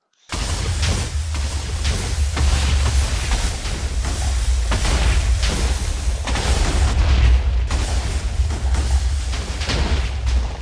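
Minecraft volcano from the Too Much TNT mod erupting in a continuous roar of booming, crackling blasts that overlap for about ten seconds, loud and dense with repeated explosion-like bursts and no pauses.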